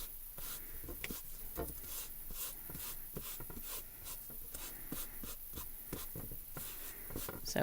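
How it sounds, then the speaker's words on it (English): Ink is rubbed over an already embossed paper card, giving steady, close, rhythmic dry scrubbing strokes, one after another, with no talking. "Just rub that ink over the top."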